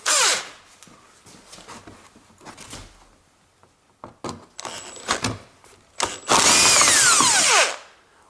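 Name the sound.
power tool loosening a bolt on a Toyota Avensis headlight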